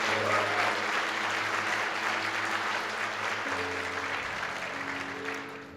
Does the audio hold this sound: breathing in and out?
no